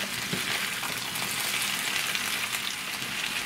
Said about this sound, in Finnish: heitetään sipulit joukkoon. Paistellaan näitä pieni tovia.